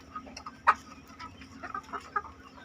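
Chickens in a coop cluck softly and intermittently at close range, with one sharper squawk standing out among scattered low calls over a quiet farm background.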